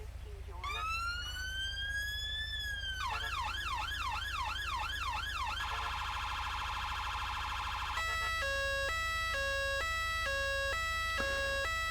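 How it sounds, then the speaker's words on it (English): Four emergency vehicle sirens from the LSPS video game, cycled one after another: a rising wail, a fast yelp, a steady high tone, then a stepped hi-lo pattern, loud and continuous over a low engine-like hum with no talk. "You then have a choice of 4 sirens"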